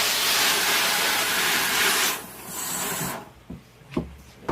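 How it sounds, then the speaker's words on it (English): A silkscreen printing frame is wetted down with water: a loud, steady spray hiss for about two seconds, then a softer spray, then a few short splashes and taps near the end. No talking. "So now all you do is just wet your screen down."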